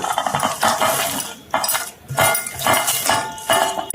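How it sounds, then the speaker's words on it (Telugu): Ingredients such as peanuts, salt and chili powder being stirred together in a pan, with repeated metallic scraping and clinking of a spoon against the pan, close and fairly loud, no talking. "అంతా ఒకసారి కలుపుకోవడమే"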